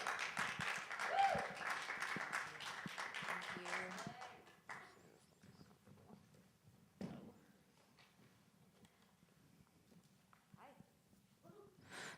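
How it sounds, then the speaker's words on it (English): Applause for the panelists at a music-industry panel on decentering alcohol, fairly faint and dense for about four seconds before fading into quiet room noise with scattered voices. "Please give us a round of applause"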